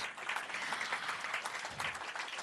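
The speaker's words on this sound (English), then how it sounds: "How about a round of applause, please, for all the gentlemen on stage?" A crowd claps steadily in a sustained round of applause, dense and even, with no voices standing out.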